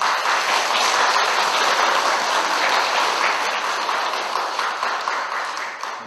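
Dense, steady applause from an audience at a Buddhist dharma service led by a monk, a continuous wash of clapping that runs the whole time and tapers slightly toward the end.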